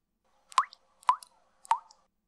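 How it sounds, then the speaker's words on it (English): Three distinct water drops plop one after another at a slow, even pace, clear and close in an otherwise quiet space. "Our ears hear water."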